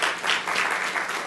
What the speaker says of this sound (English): And we want to give you an applause.